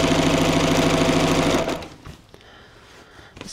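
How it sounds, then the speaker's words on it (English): A sewing machine runs steadily at close range for about a second and a half, stitching a seam on lightweight sling fabric, then stops, leaving quiet handling noise. "I'm going to go and line up these other two short edges that were not lined up before. And sew another seam here."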